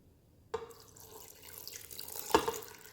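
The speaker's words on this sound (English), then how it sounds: "Now I'm going to add my water." Water pours into a 6-quart Instant Pot, about 1.5 liters for menudo, as a soft splashing trickle that starts abruptly and swells with a brief louder splash near the end.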